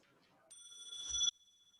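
A debate competition bell, tested for a microphone, gives a single bright metallic ring. It is faint at first, then briefly swells louder and cuts off into a thin, fading tone, with muffled talk before it.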